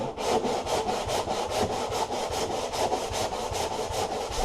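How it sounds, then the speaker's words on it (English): Body filler is hand sanded in quick back-and-forth strokes, a close, even rasping rhythm of about three to four strokes per second. "And just start sanding, and don't sand over the line."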